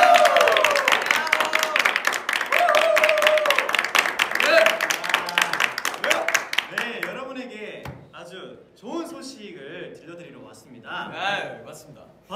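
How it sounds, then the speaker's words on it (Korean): Members of the K-pop boy group TEMPEST clap their hands together in a fast, loud, dense burst for several seconds, then stop. Excited voices and laughter follow as the clapping gives way to chatter. "알려드리기 전에 한 번 더 박수"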